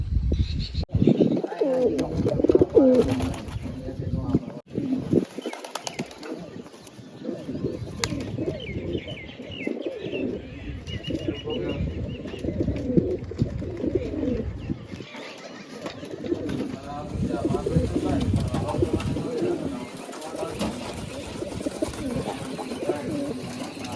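Pigeons coo repeatedly at close range with bursts of wing flapping, a busy flock sound that carries on throughout; no clear speech.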